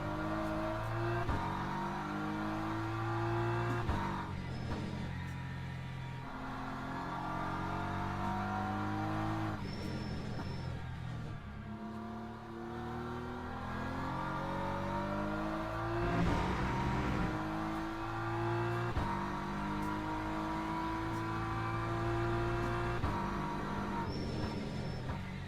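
BMW race car in a Le Mans racing game, its engine revving up through gears in repeated rising sweeps with shifts and lifts, steady and close throughout without talk.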